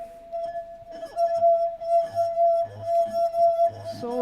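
Finger rubbing the rim of a partly filled drinking glass, stick-slip friction making it sing with a steady, sustained ringing tone and bright overtones, lasting throughout, with soft rubbing and squeaking noises underneath and some speech.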